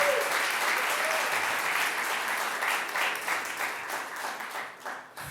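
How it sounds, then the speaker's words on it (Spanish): A church congregation applauding during a sermon, a loud and sustained wash of many hands clapping together that thins out slightly near the end. "si quieres dar un aplauso bien fuerte a Jesús."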